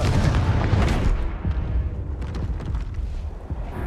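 Confringo fire spell detonating in the Hogwarts Legacy video game, a loud booming blast with heavy low rumble that rolls on and slowly fades over several seconds amid crackling debris.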